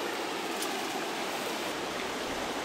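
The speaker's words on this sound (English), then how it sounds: "here the water is swifter as it dives off down this magnificent big rapid here" Swift river water pours down a big rapid, a dense, steady rushing hiss with no pauses, close and fairly loud, with nothing else audible.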